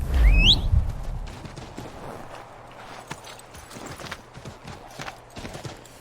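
Hooves of a horse clip-clop in a quick, uneven rhythm on hard ground in the video game Assassin's Creed III Remastered, following a brief loud whinny and snort at the start.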